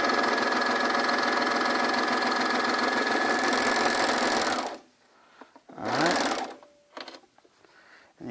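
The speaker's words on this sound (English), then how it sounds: "I'm just going to go ahead and serge this down right here, all the way down" A serger sewing machine stitches a seam on T-shirt fabric, running as a loud, steady, fast whir for several seconds before stopping, then giving one short burst and faint handling noises.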